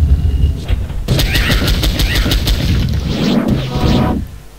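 Two cats in the video game Exhumed (PowerSlave) meow and caterwaul loudly, with repeated yowls over crashing game effects, all close and continuous.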